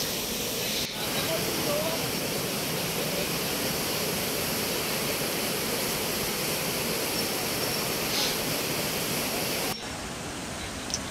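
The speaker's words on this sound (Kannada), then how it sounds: "ಇದು ಬೆಟ್ಟದ ಮೇಲೆ ಫಾಲ್ಸ್ ಇದೆ ಇದು" A hilltop waterfall on the Bandaje trek in Chikmagalur gives a steady, loud, rushing roar that fills the whole stretch without a break.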